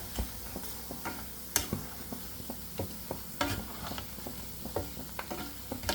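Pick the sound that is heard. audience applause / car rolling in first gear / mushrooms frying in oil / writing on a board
mushrooms frying in oil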